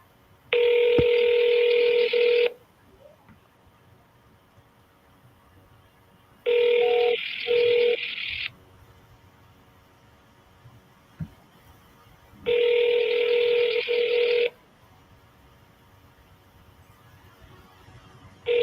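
A phone call rings out: three long, loud electronic ringback tones, each about two seconds, separated by quiet gaps of several seconds.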